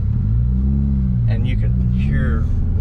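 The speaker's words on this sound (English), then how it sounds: "It's amazing how much just a air intake will change the sound of the car." A 2019 Subaru WRX fitted with a Cobb stage 1 intake rumbles steadily from inside the cabin, a loud low engine drone with people talking over it.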